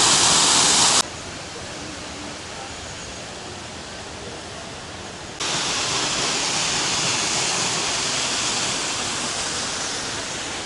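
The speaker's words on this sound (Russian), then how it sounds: "И вот он, водопад." A waterfall in a canyon in Turkey roars with steady broadband rushing water, continuous and fairly loud, heard alone without talk.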